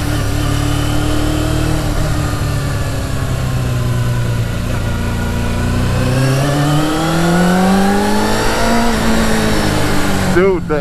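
A Yamaha motorcycle engine drones loud and close, its pitch rising as the throttle opens and then swooping back down, with a voice talking over the engine noise.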